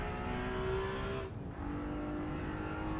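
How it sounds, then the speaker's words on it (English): A vintage car engine in the Assetto Corsa EVO racing game revs loudly and steadily, a sustained tonal drone that dips briefly as the pitch shifts, then holds again. "Let's listen to this engine."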